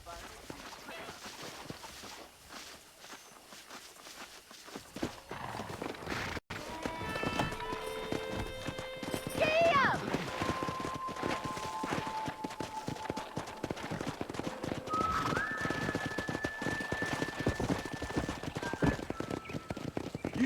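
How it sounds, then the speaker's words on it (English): Horse hooves clip-clop along at a steady pace in Red Dead Redemption, with occasional whinnies and talking voices over the trotting. "Let's see if we can't wrangle some horses."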